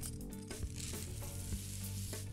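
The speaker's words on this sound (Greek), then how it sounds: "Τον ρίχνουμε το βάρος μέσα." Baking weights pour into a parchment-lined tart shell with a dense, steady rattling hiss. Faint clicks run through it, close and continuous for a couple of seconds.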